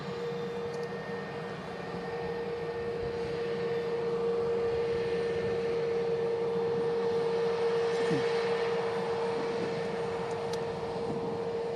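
An EasyJet airliner vacating the runway at Manchester Airport, a steady distant engine drone with a sustained whine, fairly even and unbroken throughout.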